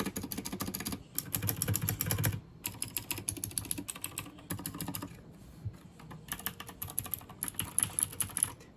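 Typing on a Royal Kludge RK68 mechanical keyboard fitted with Gateron Blue clicky switches gives a steady, fast clatter of close keystrokes, broken by a few short pauses, with no talk.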